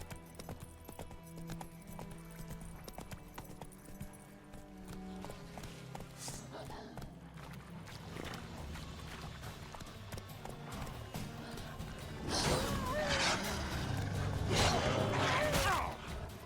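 Horse hooves gallop in The Witcher III video game, a rhythmic clip-clop under game music and someone speaking, growing louder and busier toward the end with other game noise.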